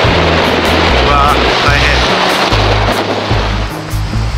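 Strong onshore wind and light rain buffet a waterproof camera at a surf beach, a loud, constant rumbling roar of gusts and surf. A voice briefly exclaims over it.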